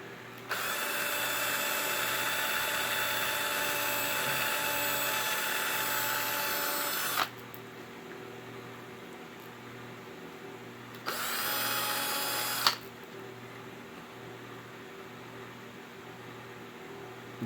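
A power drill bores holes into a Kicker Comp 12-inch subwoofer, whining steadily for about seven seconds, then a short second burst after a pause, with quiet room hum between.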